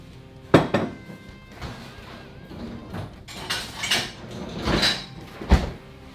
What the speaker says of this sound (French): on balance ça au lave-vaisselle